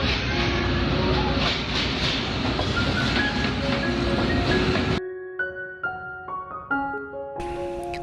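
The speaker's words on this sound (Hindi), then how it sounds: "तो फाइनली यहाँ पे हमारी ट्रेन आ गई थी" The Khyber Mail Express pulls into a station on the Attock to Lahore route. A heavy rolling rumble and hiss give way to clear tonal whistle-like notes.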